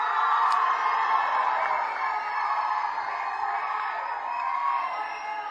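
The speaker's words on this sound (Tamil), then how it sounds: "Santhanam அவர்களே ஒரு பெரிய கைத்தட்டலோட" An event crowd applauds and cheers for comedian Santhanam, a broad, steady roar of clapping, whoops and shouts filling the hall at a moderate distance without letting up.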